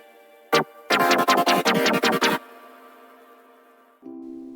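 Atmospheric layer in an electronic music production: a single sharp hit, then a quick burst of about eight rhythmic, evenly spaced bright pulses, followed by a low sustained drone and a soft tonal hum entering near the end.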